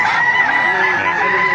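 A rooster crows at a gamefowl market in Baliuag, Bulacan, where White Kelso and other fighting birds are sold. The call is a sustained, fairly loud cry that fills the short moment, with faint market murmur behind it.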